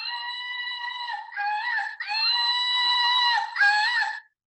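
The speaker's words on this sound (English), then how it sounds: "How does this give you any kind of positive image and it has a screaming sound" A promotional slingshot toy lets out a shrill, wavering scream in several sustained bursts with brief breaks between them. It sounds close and loud and is heard alone.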